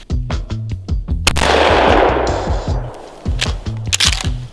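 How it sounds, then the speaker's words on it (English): A gunshot blast strikes a water bottle in a shock test: a single sharp, loud burst that trails into a rushing noisy decay, set against rhythmic background music. "it's gonna test the bottle's ability to resist the shock from the blast"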